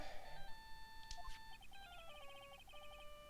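A phone ringtone in Phoenix Wright: Ace Attorney Trilogy plays as a quiet, bright electronic melody of short repeated beeping notes, preceded by a brief chime, with no voices.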